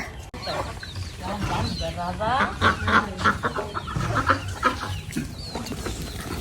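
Chickens and ducks cluck nearby in short, repeated bursts, while a person talks in the background.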